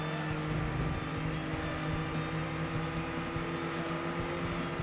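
A race car overtaking in Gran Turismo 2 on PlayStation, with a dense, steady engine roar, tire noise and passing cars blending into one loud continuous racing din, with no talking.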